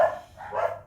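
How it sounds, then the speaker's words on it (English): Dogs barking indoors, two short barks in quick succession, close and fairly loud, with no talking. "had to calm the dogs down"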